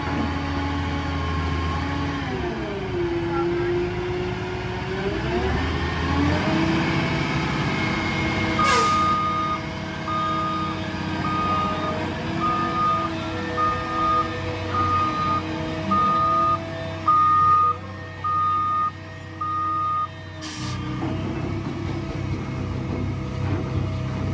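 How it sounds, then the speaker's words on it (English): Gravel delivery truck spreads stone along a new driveway: a steady idling diesel engine rumbles throughout, engine revs shift, air brakes hiss twice, and a regular reversing beeper sounds for several seconds midway. "I'm gonna watch him lay the gravel down"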